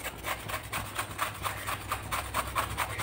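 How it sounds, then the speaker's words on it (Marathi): Peeled raw mango rubbed against a hand grater gives quick, even, rasping strokes, about four per second, close and moderately quiet with no talk over them. "आता अशी किसणी घेतलेली आहे मी आणि या किसणीवर मी कैरी किसून घेणार आहे"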